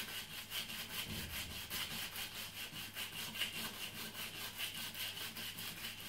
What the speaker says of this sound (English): take the saddle and sand it down just like this